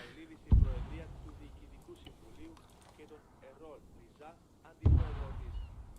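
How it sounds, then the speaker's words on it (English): Two heavy mortar impacts in the ARMA 3 military game, one near the start and one near the end, each a deep thud with a short rumble, with faint background voices and activity in between. "That is mortars."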